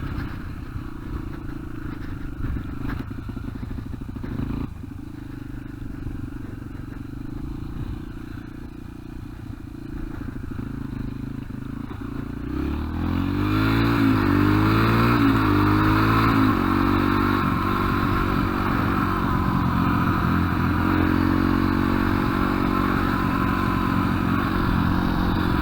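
Yamaha TTR125 dirt bike ridden and wound out in top gear, a loud near engine drone that climbs in pitch and stays at a sustained high rev, with rattling and wind noise.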